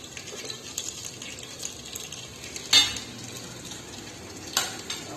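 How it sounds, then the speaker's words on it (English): Cauliflower florets sauté with onions in a pan for veg biryani, a soft, steady sizzle up close with two sharper clanks of a utensil against the pan; no talking. "So now I'll proceed and put the vegetables one by one, and then keep on sauteing it for some time."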